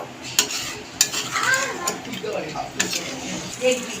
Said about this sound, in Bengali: মাংস ছেড়ে ভালো করে মিশিয়ে নিলাম দুধটা দিয়ে।